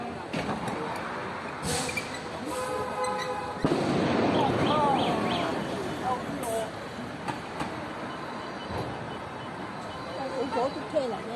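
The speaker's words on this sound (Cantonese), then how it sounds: "2部車火燭，有爆炸聲，幾犀利" Explosions from vehicles burning in a street fire outside a Guangzhou housing estate, where leaked liquid paraffin from a truck ignited a row of roadside electric bikes. Sharp, loud bursts and crackling roar stand over a continuous rumble, with shouting voices throughout.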